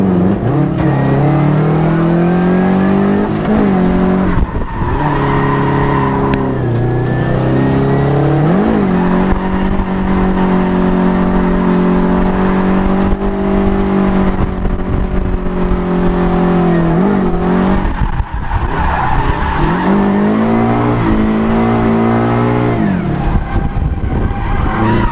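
Drift car engine revving hard and holding high revs with traction control still on, tires skidding and squealing in a loud, continuous run with rising and falling pitch.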